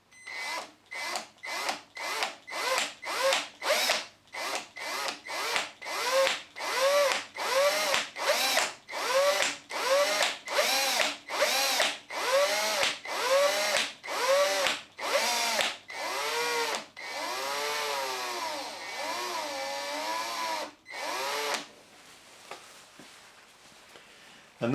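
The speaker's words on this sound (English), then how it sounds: "I'm going to press down on the drill and slowly press the trigger" Power drill spinning in reverse with a Trend Micro Grabit bit on a stripped screw in a small key fob, about twenty short whirring bursts in a steady rhythm, then one longer run, close and loud with no speech.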